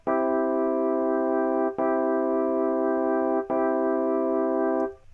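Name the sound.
major chords played in a trap beat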